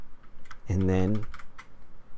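Keys clatter on a computer keyboard in quick, light taps, close by, broken by a brief vocal sound in the middle.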